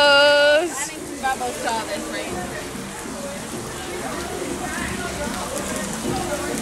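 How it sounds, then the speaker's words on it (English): Heavy rain hisses steadily and evenly, with a voice speaking briefly at the very beginning before the downpour carries on alone. "Never seen this much rain before."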